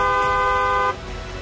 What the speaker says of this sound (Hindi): सावधान करने के लिए हॉर्न बजाएं।